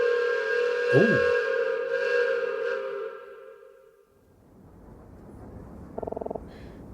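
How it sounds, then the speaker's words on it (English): A loud, sustained train whistle in the video game Detective Instinct: Farewell, My Beloved blares for about four seconds with a pitch-bending start, then cuts to softer ambient rumble with a brief buzzing burst; someone exclaims faintly. "I knew train whistles were loud, but that was completely deafening."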